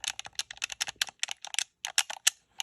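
Dense, fast clatter of a fighting-game controller's buttons and mechanical D-pad being mashed together, sharp close clicks in irregular bursts with brief gaps and no voices.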